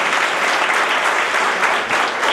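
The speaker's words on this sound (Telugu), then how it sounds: "ఇప్పుడు మాత్రం గట్టిగా చప్పట్లు కొట్టాలని మీరు కోరుతా ఉన్నాను" Loud, dense applause from an audience at an anniversary gathering, many hands clapping in a steady roar, close and unbroken for the whole stretch.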